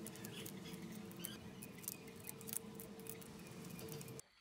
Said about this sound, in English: I'm going to lay down some strips of duct tape